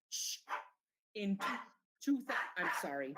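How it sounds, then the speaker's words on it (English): A pet dog barking during an online county government meeting, several sharp close barks in short bursts interleaved with someone talking over them. "I'm sorry, that's my dog."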